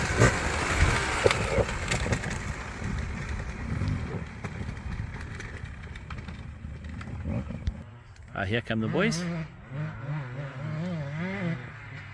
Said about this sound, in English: I want you actually just to listen to the engines.